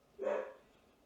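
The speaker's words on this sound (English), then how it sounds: "Can you guys hear my dog barking again?" A dog lets out a single short bark, faint and seemingly from another room, followed by quiet.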